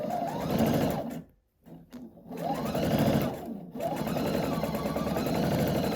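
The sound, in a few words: sewing machine stitching quilt block seams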